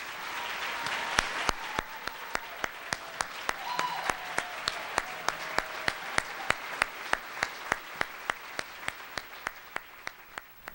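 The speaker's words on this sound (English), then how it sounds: "Let's have one more large round of applause for all of our angels" Large audience applauding at a foundation's Angel Awards ceremony, a dense, sustained wave of clapping with a few voices beneath it, while sharp periodic clicks tick steadily through the whole stretch.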